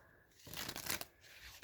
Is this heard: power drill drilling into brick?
no